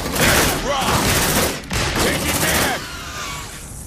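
Sustained suppressive gunfire in Aliens: Dark Descent, a dense, loud burst of rapid automatic shots with overlapping bangs and shrieks, easing slightly near the end.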